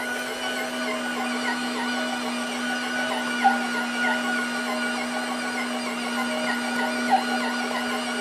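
A WonderMix stand mixer kneads bread dough with a steady, even motor whine and a constant hum, joined by faint rhythmic thumps and two brief clicks, with no one talking.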